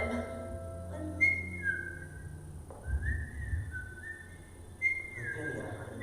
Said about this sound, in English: heard a man's voice whistling away among the trees